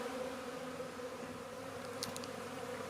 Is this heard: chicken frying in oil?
no